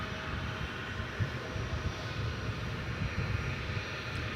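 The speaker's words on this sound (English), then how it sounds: "that DHL plane is going over the bridge over to the east side for departure to the Queen City" A DHL cargo plane taxis at Dallas/Fort Worth International Airport at night. Its engines give a steady, continuous whine and rumble at moderate distance, with no talk over it.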